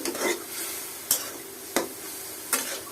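Dried loitta fish with radish and eggplant stir-fried in oil with turmeric, chili and salt, a steady sizzle broken by three sharp scrapes of a utensil against the pan at even intervals.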